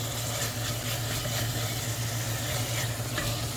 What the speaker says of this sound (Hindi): तो जो मसाला है वो ऑलमोस्ट फ्राई हो गया है।